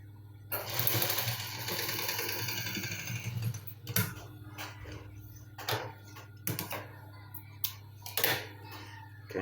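A sewing machine stitching an invisible zip on a shoulder seam runs in a fast, steady whirring burst for a few seconds, then stops and gives way to scattered clicks and handling knocks at close range.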